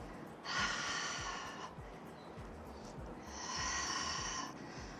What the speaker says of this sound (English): Long, audible exhales.